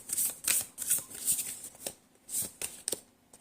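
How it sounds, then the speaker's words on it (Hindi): Tarot cards being picked and handled for a reading: soft, close papery slides and flicks in short bursts, quiet with brief pauses between movements. "तो चलिए आज 6 कार्ड्स पिक करते हैं।"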